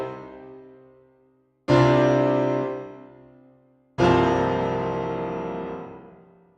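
Synchron CFX concert grand piano sample with added algorithmic reverb: two loud struck chords, each ringing out into a long, lush reverberant decay with no talk.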